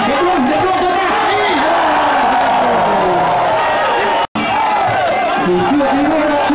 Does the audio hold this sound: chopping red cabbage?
no